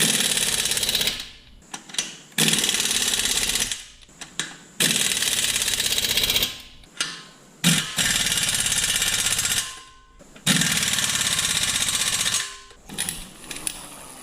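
An impact wrench or power tool on a Kubota L3400 tractor fires in repeated loud, rattling bursts of a few seconds each, separated by short pauses as the nuts are tightened in a crisscross pattern.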